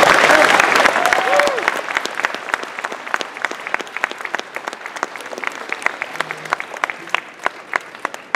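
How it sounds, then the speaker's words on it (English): A crowd at a film festival awards night applauds, loud dense clapping at first with a brief whistle, then thinning into scattered individual claps that fade over several seconds. "Please give him a big, warm round of applause for Tisha."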